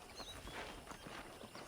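Horse hooves clip-clopping in the Western video game Red Dead Redemption, soft irregular hoof steps under a dense, noisy outdoor game ambience, fairly faint and muffled.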